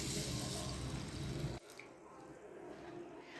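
A tap runs steadily over a quarter cup of sabudana (tapioca pearls) being rinsed in a kitchen. The loud, close rush of water cuts off abruptly partway through, leaving near silence.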